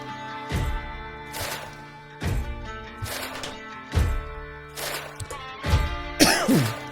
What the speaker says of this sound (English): Just cough right in the mic next time.